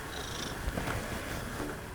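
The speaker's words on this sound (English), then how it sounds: "She's purring up a storm." A cat purring steadily up close, a continuous low rumbling throb with no talk over it.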